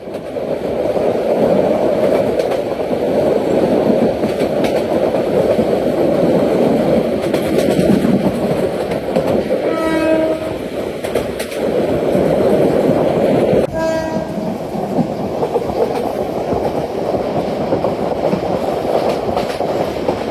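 Heard from on board, the Titas Commuter Train runs at 60 km/h with a steady loud roar and a clattering rhythm of wheels. A horn sounds in two bursts partway through.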